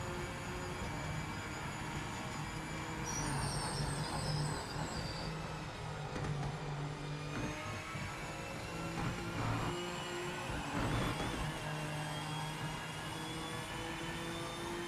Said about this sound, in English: The Toyota Supra GT4 Evo,